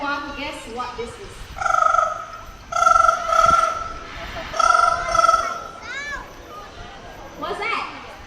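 A trained bird at a bird park show imitates a ringing telephone in several repeated trill bursts, loud and close, with a presenter talking and children's voices around it.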